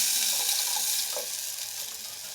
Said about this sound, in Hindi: इसमें अब मैं पानी थोड़ा सा 1 गिलास और डाल दूँगी।